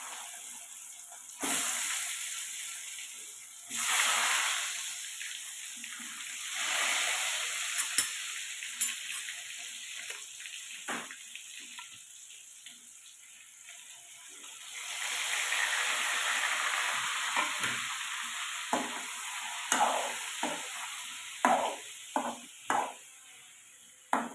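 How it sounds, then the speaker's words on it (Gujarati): Mustard seeds and cumin tempering in hot oil for a bitter gourd and potato curry, with surging waves of sizzle and hiss and a run of sharp crackles and pops toward the end, no voices. "રાઈ જીરું નાખીને તો વઘાર કરી લઈશું."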